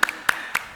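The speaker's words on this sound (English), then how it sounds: "Everybody give yourselves a huge round of applause." Participants at a virtual online event clapping at home, heard as four separate sharp claps spaced roughly a quarter second apart, close and distinct with quiet gaps between them.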